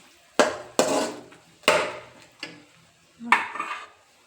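Spoon scraping and clanking against a metal pot while stirring a mixture with jaggery, several distinct strokes spread out with short pauses, close and fairly loud with no talk.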